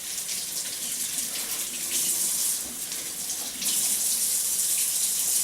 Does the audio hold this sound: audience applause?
no